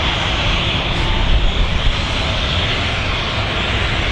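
A Jet2 airliner at Manchester Airport roars with a broad, steady engine rush, loud and sustained for the whole stretch with no voices.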